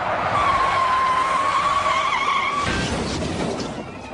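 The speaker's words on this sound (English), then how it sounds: "once that heavy car starts to fishtail, it's all over" A heavy car skids and fishtails at speed during a police chase, a loud sustained tire squeal over engine roar and road noise that breaks off into rougher scraping and fades at the end.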